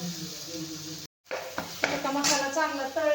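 Tomatoes and masala frying in a pan for a village-style drumstick amti, a continuous loud sizzle with spoon scrapes and clinks, cut briefly by a moment of silence. A voice talks over it.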